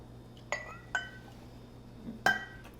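Glass clinks three times at uneven intervals as a glass jar is handled while mixing a balsamic vinaigrette, bright and close with ringing tails in a quiet kitchen.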